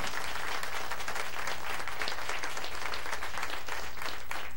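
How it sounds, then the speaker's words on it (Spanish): A crowd at an outdoor community political event in Santa Cruz Meyehualco, Mexico City, applauds a local deputy with steady, dense clapping that fills the whole stretch at an even level, moderately loud with no break. "aplauso"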